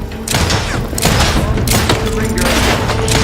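Grenade blasts and gunfire in the video game Outer Worlds 2, a dense run of loud, booming detonations and thuds that keep the sound full from start to end, with game voices shouting underneath.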